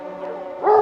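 A dog barks once, an excited bark close by near the end of a short stretch of low whimpering, outdoors at a Saint Hubert hunting mass among a pack of hounds.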